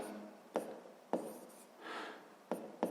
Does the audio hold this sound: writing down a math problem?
yes